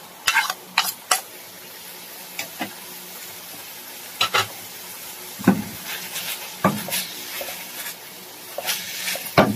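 Chayote is stirred and sautéed in a pan, with scattered utensil scrapes and stirring knocks over a soft sizzle, the strokes coming at irregular intervals and moderately close.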